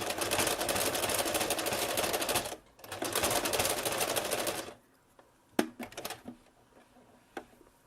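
A sewing machine stitches a fabric mouse-shaped kitchen potholder in two dense, rapid bursts of running stitches separated by a brief pause, then stops, leaving only a few scattered clicks and handling noises.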